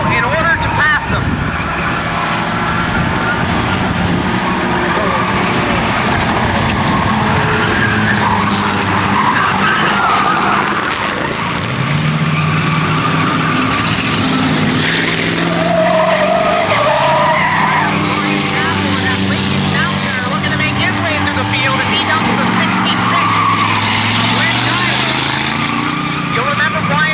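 Race cars at an amateur endurance race roar around the track, their engines rising and falling in pitch as they pass and tires squealing, while a commentator talks over the din throughout.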